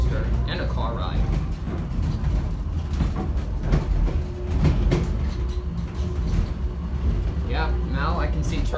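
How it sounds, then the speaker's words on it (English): A subway train at Houston Intercontinental Airport rides toward Terminal A with a steady rumble and clatter throughout. Voices speak over the rolling noise at times. "this subway train feels so much like a roller coaster and a car ride."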